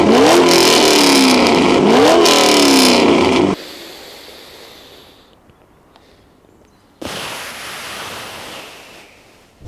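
A car fitted with Cooks exhaust headers and a straight-pipe exhaust revs loudly up and down for a few seconds, then drops to a quiet idle before another loud burst returns near the end.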